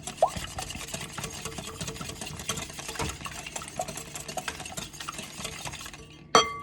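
Eggs whisked in a bowl for gluten-free, dairy-free cinnamon roll muffin batter: a fast, steady scraping rhythm of whisk against the bowl continues throughout, ending with a sharp clink.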